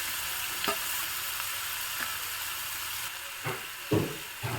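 Tender raw jackfruit pieces tumble into hot tempering oil, raising a constant loud hiss of frying with a few soft knocks of a spoon against the pan, close by.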